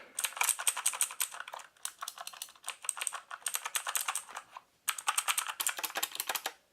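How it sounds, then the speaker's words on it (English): Rapid, crisp clicking of an EasySMX mechanical gaming keyboard's keys in dense bursts, close up, with a brief pause midway and no talking. "nice to hear how clicky it is just from me handling the keyboard"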